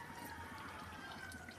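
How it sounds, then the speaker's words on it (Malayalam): Tamarind water pours steadily into a boiling sardine curry, a continuous soft liquid splash and trickle over the bubbling pot, fairly quiet and unbroken throughout. "അത് നല്ല തിളച്ചുകൊണ്ടിരിക്കുമ്പോൾ തന്നെ അതിലേക്ക് വേണ്ട അളവിൽ കുറച്ച് പുളിവെള്ളം ഒഴിക്കുകയാണ്"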